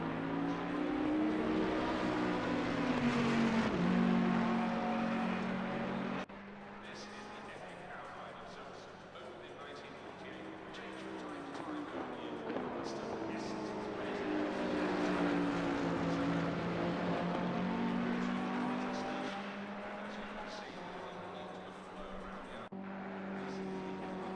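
Race cars in a GEAR League race at Silverstone give a sustained, high-pitched engine whine that rises and falls as they pass, with a voice talking over it throughout.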